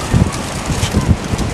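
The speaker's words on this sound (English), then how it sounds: "There's a lot of wind here" Strong wind buffets the microphone at a beach at Hacienda Pinilla during an outdoor cooking show. A loud, continuous rush with low rumbling gusts that swell and fade, and no clear speech.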